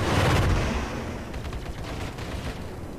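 Spaceship guns firing in the space video game Star Citizen, a dense rattling burst that is loudest at the start and then settles into a sustained rumbling barrage.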